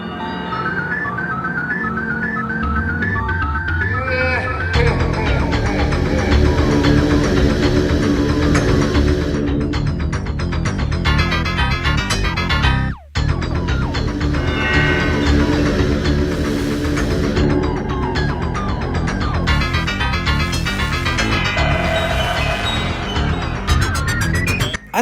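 Sonic CD US version video game soundtrack music, a dense synth-driven track playing loud and continuous, with a brief dropout midway and no talking.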